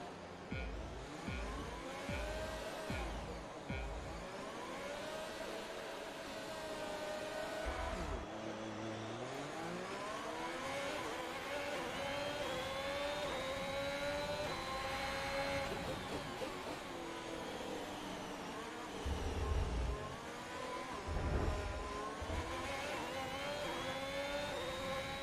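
F1 2021 race cars at the race start, a pack of engines revving and screaming through gear changes with rising and falling whines, dense and continuous, plus low thumps early on.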